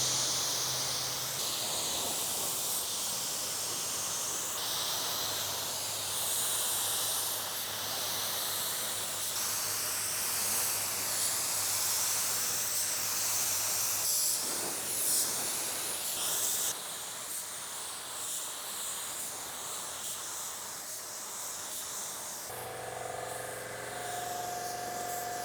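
A spray gun atomizes automotive paint with a steady, broad hiss that runs for the whole stretch, close up and even, with only small shifts in tone as the gun is angled across the panel.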